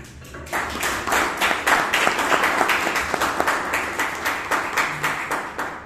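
A room of members at a Toastmasters club meeting in Bangalore gives a round of applause, dense rhythmic clapping that swells after a brief start and holds steady at moderate loudness.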